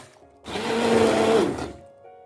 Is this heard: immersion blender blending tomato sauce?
yes